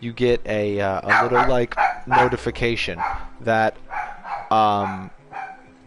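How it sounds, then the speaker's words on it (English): A pet dog barks and yips excitedly indoors as a roommate arrives home, the barks close and loud, overlapping with someone talking. "that's my dog. She's I guess excited that my roommate's home."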